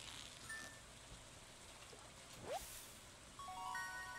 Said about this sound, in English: Just fishing in the rain.